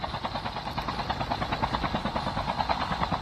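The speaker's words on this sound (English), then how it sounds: "Why can't we get this chopper moving?" Helicopter in a video game, rotor blades thumping in a fast steady rhythm over a droning engine, close and continuous for the whole stretch.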